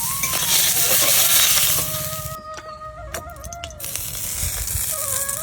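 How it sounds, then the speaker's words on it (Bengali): Rohu fish being lightly fried in hot oil in a pan, a bright crackling sizzle that fades partway, then sharp clicks and light metallic scraping of a spatula over a softer, steady hiss. "হ্যাঁ, হালকা ভাজবো আমি মাছটা"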